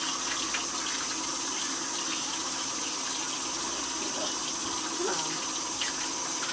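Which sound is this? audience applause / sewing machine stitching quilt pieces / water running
water running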